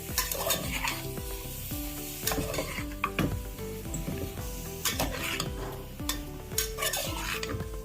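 Chicken with green chilli, spinach and turmeric is stirred in a pan, with repeated scraping strokes and clinks of a spoon against metal over a steady close sizzle.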